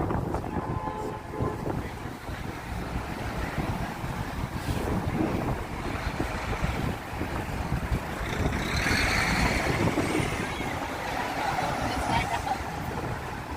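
Strong wind buffets the microphone on a New York City street at East 8th Street and Broadway, a continuous roaring rush with gusts swelling louder toward the end, under faint background city noise.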